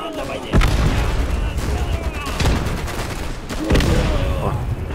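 Loud, sustained heavy machine gun fire in the World War II shooter Easy Red II during the Stalingrad Volga River crossing, bursts rattling with booming impacts throughout.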